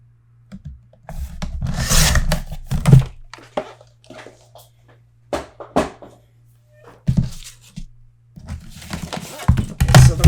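Paper flap being trimmed for a Stamperia mini album: bursts of scraping and rasping cuts with a few thunks, separated by pauses, over a low steady hum.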